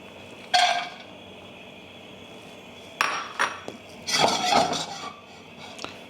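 Walnuts roasting in a pan, with a few sharp clattering, clinking bursts as the nuts shift and are stirred against the metal; the clatter sits fairly close, separated by quieter pauses, and no one speaks.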